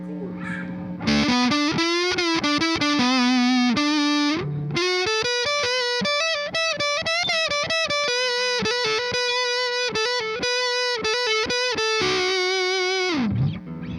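An electric guitar on its neck single-coil pickup plays open chords through an Orange Terror Stamp amp pedal with gain cranked all the way up, producing loud, heavily distorted sustained chords that shift through a progression and ring out at the end.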